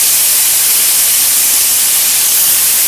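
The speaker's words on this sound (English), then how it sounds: "So we're going to get some grease going with some bacon" Bacon sizzles in grease in a pan with a steady, loud, even hiss that holds for the whole few seconds, with no talking.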